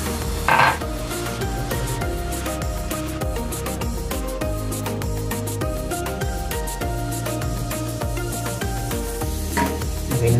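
Fish boils in a pot on a farmhouse stove with a busy, continuous bubbling and sizzling, along with occasional clinks and stirring scrapes of a utensil against the pot, close up and with no talk.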